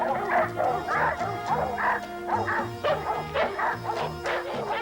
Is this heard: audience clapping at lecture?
no